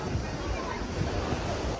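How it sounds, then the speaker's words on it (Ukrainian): Strong cold wind gusting across an open-air market in Odesa, Pryvoz, a steady broadband rush with low rumbling buffets against the microphone, loud and continuous throughout. "О, який вітер"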